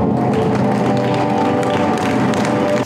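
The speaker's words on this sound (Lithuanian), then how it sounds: "jūsų aplodismentai tegul aidi mokslų daktarui Eugenijui" An audience at a hunting horn show breaks into steady applause for a speaker, many hands clapping close and loud throughout before it cuts off abruptly.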